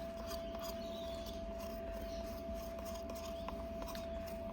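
A spatula scrapes and rubs inside a container while mica powder is mixed into eco resin, a soft close gritty scraping in uneven strokes over a steady background hum, no voice.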